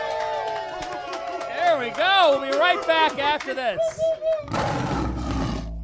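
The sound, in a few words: live crowd cheering in a bar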